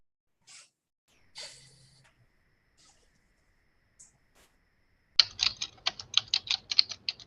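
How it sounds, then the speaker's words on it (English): Rapid, clicky keystrokes on a computer keyboard burst in over an open microphone during an online library board meeting, after several seconds of near silence with a few faint sounds, fairly close and continuous. "We can hear you typing."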